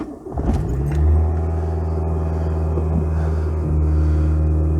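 A Volkswagen Scirocco MK2 engine idles after a cold start, a steady close rumble with strong low harmonic tones and a slight rev bump partway through, with no talking.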